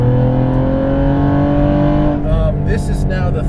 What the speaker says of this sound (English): The turbos sound cool.